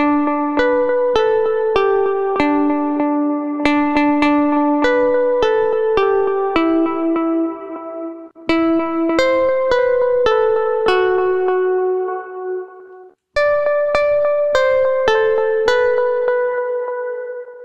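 A plucked melody in a minor key, bright ringing notes with echo, played in phrases separated by two short pauses.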